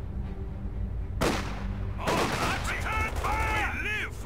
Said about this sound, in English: We have small arms fire!